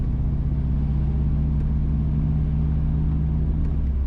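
A car driving north on the B13 Cool Spring Road in St Mary, Jamaica, heard from inside as a steady low engine and road rumble, continuous and even, with no talk.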